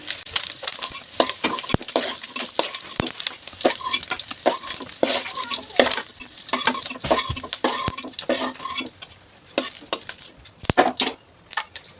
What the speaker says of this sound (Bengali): ডিমটাকে আর কিছুক্ষণ ভেজে নেব ডিমগুলাকেও উঠিয়ে নিচ্ছি